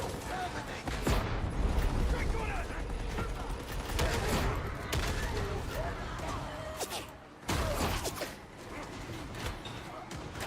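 A grenade explodes in the Warhammer 40,000: Darktide video game, heard as loud, dense bursts of gunfire and impacts, with a heavy boom partway through amid continuous combat noise.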